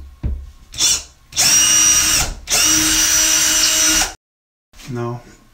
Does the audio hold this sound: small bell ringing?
no